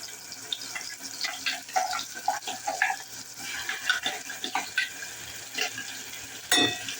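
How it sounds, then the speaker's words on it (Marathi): Ground masala paste frying in oil in a pan as it is stirred, giving close, irregular scraping and wet sizzling bursts alongside faint running-water sounds, with no talking. "वाटलेला मसाला वाटण तेलावर चांगला परतवून घेतो"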